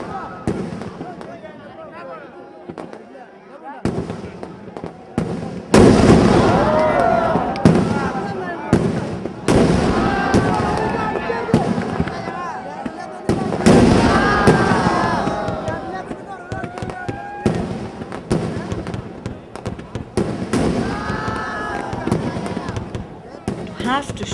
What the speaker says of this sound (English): The Veddiketta, Thrissur's homemade, hand-prepared fireworks.